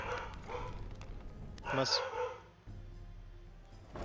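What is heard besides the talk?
dog barking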